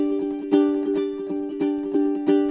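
A ukulele strummed fast in a down-up pattern with muted ghost strokes, giving a rapid, percussive rhythm of ringing chords broken by sharp scratchy accents, close and clear with no voices.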